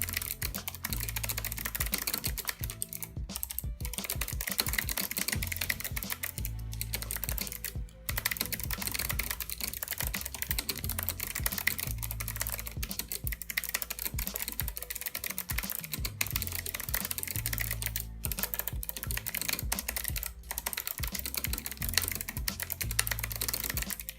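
Steady, fast typing on a Havit GAMENOTE HV-KB390L low-profile computer keyboard, soft clicky keystrokes with brief pauses, close and fairly quiet, no voices.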